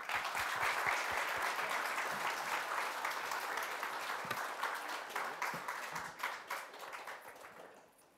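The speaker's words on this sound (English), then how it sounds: "let's have a round of applause" A round of applause for distinguished panelists after a fintech ecosystem panel, many hands clapping together at first, then thinning into scattered individual claps that fade out.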